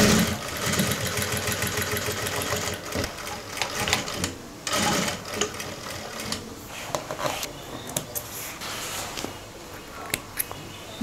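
A sewing machine runs in stretches of rapid, close mechanical stitching on a leggings waistband, stopping and restarting with clicks and handling noises between runs, while a person talks over parts of it.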